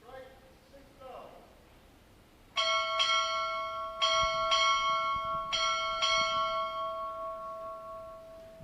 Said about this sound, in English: Time orderly, strike 6 bell.